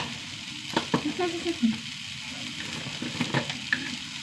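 Spice powders, turmeric among them, frying in a pan over ginger and garlic, giving a low steady sizzle with a few soft stirring scrapes and taps, close but fairly quiet.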